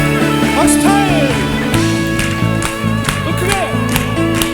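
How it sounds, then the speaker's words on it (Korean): Church congregation clapping along during a Korean Sunday afternoon worship song, rhythmic claps mixed with loud sung music and instruments, the hands partly buried under the singing. "박수 타임"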